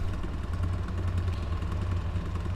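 A beginner's pulse motor generator spins at roughly 1200 to 1300 RPM on a 12-volt supply, giving a steady close low-pitched hum with a fast pulsing clatter, continuous and alone.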